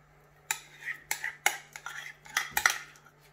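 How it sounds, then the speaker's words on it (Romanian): Minced meat for mici, mixed with garlic and lard, is worked with a utensil against a bowl, giving about eight sharp clinks and scrapes at an uneven pace, close and fairly quiet, with no talking. "Și începem să amestecăm"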